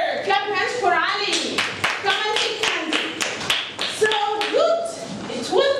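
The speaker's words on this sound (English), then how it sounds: "Clap your hands for Ali." A classroom of children claps hands during an English lesson, with sharp, close claps in short bursts mixed with a teacher's and kids' voices talking over and between them.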